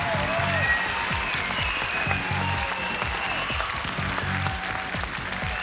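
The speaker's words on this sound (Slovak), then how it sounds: "Ten váš potlesk" Television talent show audience at a live super final giving steady, dense applause that holds evenly throughout, with a faint tone from the stage under the clapping.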